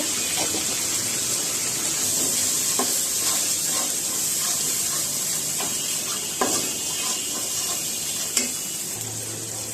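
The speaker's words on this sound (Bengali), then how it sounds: "মশলাগুলো সুন্দর করে একটু কষিয়ে নিতে হবে। ধনিয়া আর জিরার গুঁড়ো দিয়ে দিল।" Coriander and cumin powder with other spices frying and being stirred in a pan for mutton rezala, a steady close sizzle with scattered scraping stirs and a few louder clinks throughout.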